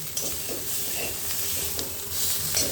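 Steady frying sizzle with soft scraping strokes of a spoon stirring chopped banana stem in a pan, continuous and close, no voices.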